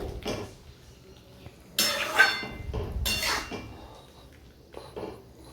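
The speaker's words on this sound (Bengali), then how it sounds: "এবার নাড়াচাড়া করে নেব খুন্তি দিয়ে।" A metal spatula scrapes and clanks against a pan while green beans are stirred with mustard and poppy-seed paste, giving a few sharp metallic scrapes and knocks between quieter pauses.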